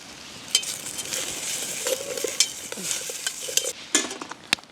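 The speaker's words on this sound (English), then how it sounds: "give that a bit of a mix about" Diced Aldi beef is stirred in a pot outdoors, with a soft sizzle underneath and repeated scraping clinks of a utensil against the metal, irregular and close.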